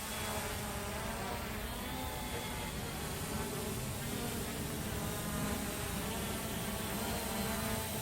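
An MJX Bugs 2 drone hovers outdoors under GPS hold, its motors giving a constant loud insect-like buzz with a steady whine that never lets up.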